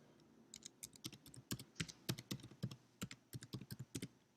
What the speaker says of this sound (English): down here you can type your username and you can type your password